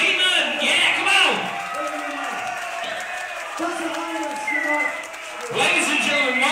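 Crowd in a small club at a live 1988 rock concert in Nottingham cheering and applauding the band, with whoops and shouts over clapping while someone speaks loudly into a microphone.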